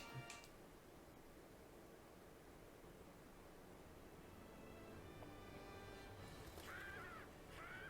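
A bird in the One Piece Odyssey video game caws in a couple of faint, short calls near the end, over a quiet hiss of game ambience.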